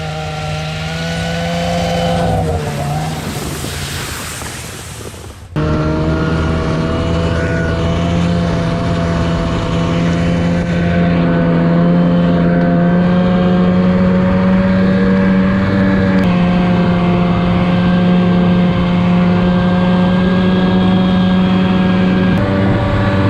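A truck engine runs steadily as the vehicle drives off a snowy log road in cold winter weather, with a loud sustained drone that shifts pitch a few times and has a brief rougher burst near the start.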